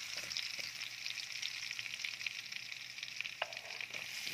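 Garlic fries in a pan with a steady, bright sizzle, near and continuous, broken by a few faint clinks of stirring.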